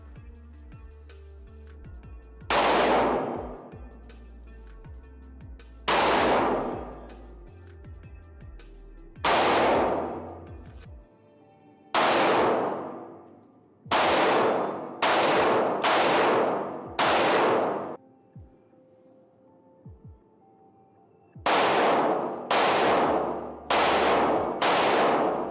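Canik pistols fitted with GK Arms compensators fire at an outdoor range, loud sharp reports arriving singly and in quick doubles and triples, each followed by a short ringing decay.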